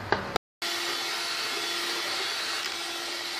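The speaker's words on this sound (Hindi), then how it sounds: "इसको मैं ब्लेंड करूंगी" A kitchen blender whirs steadily through cooked Arabian hareesa, starting after a short burst and brief pause, then running as a loud, even motor drone to the end.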